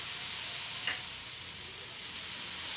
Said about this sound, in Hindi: ये डार्क वाली हमने सोया सॉस डाली है।